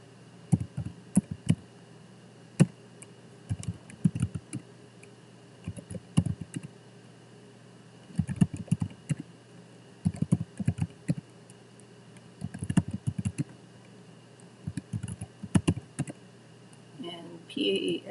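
Figures being typed into a computer keyboard during a PowerPoint chart exercise, quiet clustered bursts of key clicks separated by short pauses, fairly close and alone.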